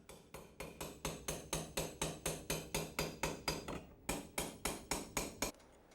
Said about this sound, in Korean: 둥글게 말린 은판을 처음에는 나무망치로 시작해서 점점 쇠망치로 그렇게 수도 없이 두드려 원장식의 모양이 만들어진다.